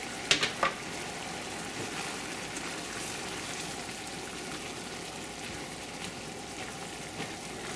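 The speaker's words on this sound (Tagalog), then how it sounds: "Haluin natin ulit." Food fries in a pan with cream as it is stirred for a sipo eggs dish, a soft steady sizzle with a few sharp clinks at the start and quiet stirring after.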